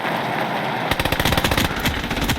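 A World War I battle in Gates of Hell Ostfront, French forces mod: after a steady rumble, a machine gun opens up in a rapid, loud burst of evenly spaced shots that fire continuously to the end.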